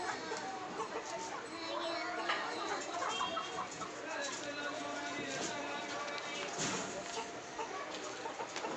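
Chickens cluck and chatter in a busy flock on a poultry farm, steady throughout, with people talking faintly in the background.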